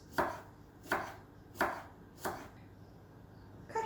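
A kitchen knife slicing spring onions on a chopping board, four evenly spaced crisp cuts followed by a fifth after a pause, close and quiet with no talking.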